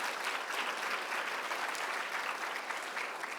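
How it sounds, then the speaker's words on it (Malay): A hall audience of cadets claps for Rashid at a formal programme, a steady dense wash of applause that holds evenly throughout with no talk over it. "bagi tepukan kepada Rashid."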